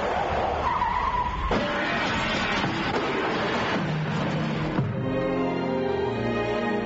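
A young driver's car loses control outside a house, tires screeching in a long, loud continuous skid that shifts pitch, with a brief engine note near the end.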